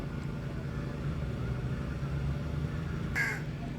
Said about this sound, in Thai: โอ้ยเสียงกา